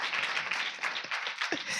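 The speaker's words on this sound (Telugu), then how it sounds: "అందరు గట్టిగా చప్పట్లు కొట్టండి." A crowd at a gathering claps briefly, a short, fairly faint burst of scattered applause with no break.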